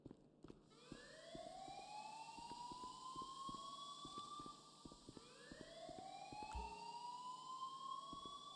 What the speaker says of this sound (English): The alarm is set to go.